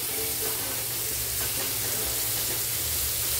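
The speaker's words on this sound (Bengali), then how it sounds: "দিয়ে করেলাটা যেমন আমরা লবণ হলুদ দিয়ে ভাজি ওভাবেই ভাজতে আরম্ভ করব।" Bitter gourd fries in hot oil with salt and turmeric in a pan over a low gas flame, making a dense, steady sizzle that fills the whole moment at close range, with no talk over it.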